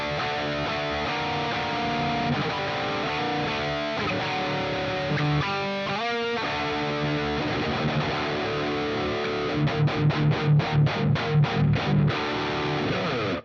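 Heavily distorted modern metal electric guitar through an amp-simulator plugin with reverb, playing dense riffs and sustained chords, ending in a run of tight palm-muted chugs, loud and continuous with no talking.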